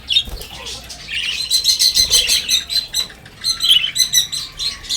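Pet parakeets and African lovebirds chirp in a steady flurry of bright, rapid tweets and calls close by, with occasional wing flutters and no talk.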